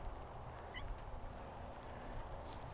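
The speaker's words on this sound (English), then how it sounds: "we have our escape artist chicken here, Houdini, the Buff Orpington" A Buff Orpington chicken on a farm gives a brief, faint call or two over a low outdoor background rumble. No one talks.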